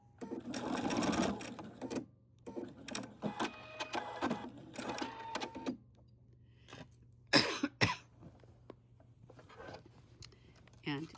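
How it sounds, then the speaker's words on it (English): A sewing machine stitches back and forth in short bursts of rapid whirring, close by, with coughing and throat clearing between runs. "Sew it back and forth to lock that end in several times."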